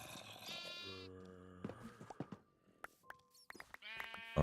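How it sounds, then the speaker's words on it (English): Sheep in Minecraft bleating: a couple of drawn-out wavering bleats, then scattered clicks and soft game sounds, then another bleat at the end, close and without talk. "We got 3 adult sheep now"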